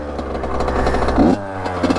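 A dirt bike engine runs loud and close, a steady rough idle with a brief rev partway through, ridden outdoors on the same day as snowmobiles.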